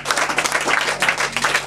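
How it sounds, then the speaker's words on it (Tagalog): A church congregation claps and applauds for the Lord during a Filipino worship service, a dense, steady burst of many hands that stays loud and continuous for a couple of seconds. "Isa pa nga palakpak para sa Panginoon."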